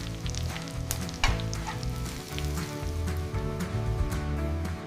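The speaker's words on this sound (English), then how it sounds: "Frying time is short and precisely controlled." Doughnuts fry in oil on an automated line, giving a steady, dense sizzle and bubbling that runs the whole time alongside machine hum, with a brief louder burst partway through.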